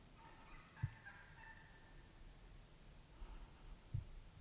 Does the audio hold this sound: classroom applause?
no